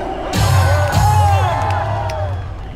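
A crowd at a political rally in South Korea cheers and shouts in a loud sustained roar that rises quickly, holds for a couple of seconds, then fades, with a few whoops standing out.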